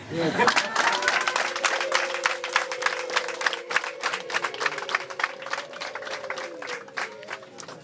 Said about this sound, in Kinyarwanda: Nakumbera amashyi.